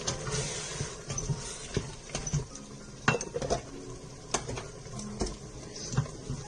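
A spoon stirs biryani paste of mint, ginger, garlic and green chilli in an Instant Pot, giving repeated metallic scrapes and clinks against the pot in an irregular rhythm, close and fairly quiet.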